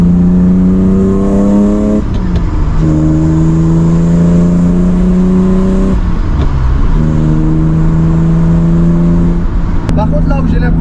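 BMW E30 330i engine pulls hard through the revs while driving, three rising climbs separated by gear-change dips, loud and close from inside the car.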